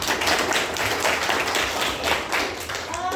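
A classroom of students claps together after a reading lesson on scriptures, a dense, steady patter of many hands that stays loud and close for the whole stretch.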